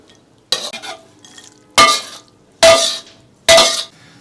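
Mung bean sprouts being stir-fried hot and sour with salt and white vinegar in a wok, four loud bursts of tossing and scraping with sizzle, alone and close.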